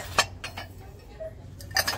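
Ceramic coffee mugs from a dollar-store haul clink against each other as they are handled, giving a few short, sharp knocks spread across a quiet moment, with no talking.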